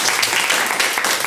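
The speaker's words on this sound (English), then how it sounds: "I saw you sneak in a golf clap." A brief burst of applause-like clapping during a drum groove masterclass, lasting about a second.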